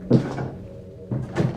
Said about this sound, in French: Je marche sur des portes, je suis désolé.